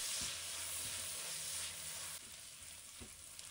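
Fermented black beans and soy sauce stir-fried in a hot wok, a steady bright sizzle throughout with a few soft scraping clicks as the food is moved, easing slightly partway through.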